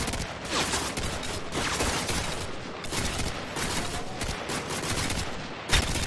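Dense, continuous gunfire rattles in Call of Duty: Modern Warfare 2, overlapping bursts and volleys blending into a steady battle roar at moderate distance, with no talk.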